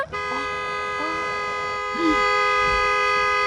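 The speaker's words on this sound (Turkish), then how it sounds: "Korna takıldı." A stuck car horn blares continuously as a steady tonal drone, with a few brief voice sounds over it.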